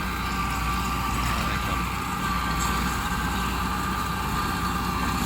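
A tractor engine labouring steadily while working and chopping a sesbania field, a loud continuous low rumble and drone with no pauses, close by.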